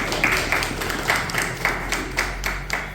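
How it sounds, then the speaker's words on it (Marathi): An audience at a cultural event in Satara claps in a scattered, loosely rhythmic way, a soft steady patter heard from within the hall. "त्यांनी बच्चनची मुलाखत घेतली म्हणून या टाळ्या नाही."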